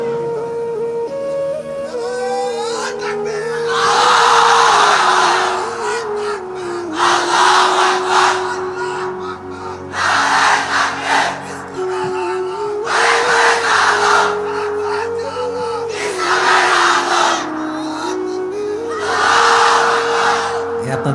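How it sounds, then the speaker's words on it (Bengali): At an Islamic sermon, a large crowd shouts the takbir chant in repeated loud bursts, and a single voice leads between the group roars. "তুমি আরেকবার তাকবীর দাও, দাও তাকবীর দাও একটা"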